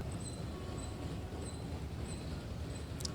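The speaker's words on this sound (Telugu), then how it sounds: "మళ్ళీ ట్రైన్ అయితే వస్తుంది చూడండి" A small amusement-park ride train at an exhibition rumbles past steadily at moderate distance, with a faint repeating high whistle-like tone and a brief squeak at the end.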